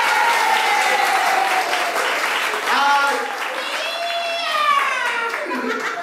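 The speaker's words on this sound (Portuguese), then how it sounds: "muitos aplausos pra nossa noiva" Applause and clapping ring out for the bride at a bridal shower party led by a drag queen host, steady throughout, with voices calling and laughing over it.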